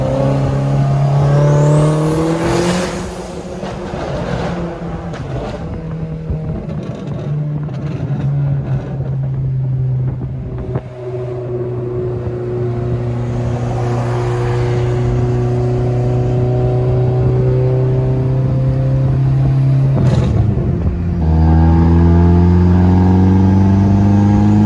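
A big-turbo Audi B5 car pulls hard through third gear, the engine droning loud and steady with rising tone, a brief dip near the shift then resuming strongly, no talk.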